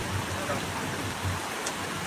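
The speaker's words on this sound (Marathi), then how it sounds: "मित्र पाऊस पडत आहे" Steady rain falls in an even, soft hiss of drops that continues at a moderate level.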